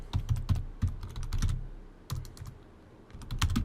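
Someone types a name on a computer keyboard in quick bursts of crisp key clicks, pausing briefly around the middle before the clatter resumes, close and fairly quiet with no speech.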